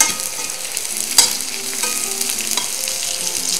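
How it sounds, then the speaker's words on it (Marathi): Sliced onion fries in ghee with a loud, close, continuous sizzle. A single sharp clatter from a stirring utensil cuts through, with lighter scraping after it, and there is no talking. "कांदा टाकते उभा चिरलेला, साधारण एक वाटी उभा चिरलेला कांदा आहे हा"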